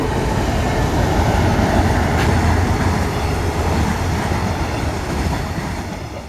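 A train passes near a campsite, a loud continuous rumble with rhythmic wheel clatter that swells and then slowly eases off, with no voices.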